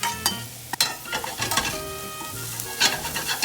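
Garlic, onions and mushrooms sizzle loudly in a pan while being stirred, a close frying hiss with spoon scrapes and occasional clinks against the pan, no talking.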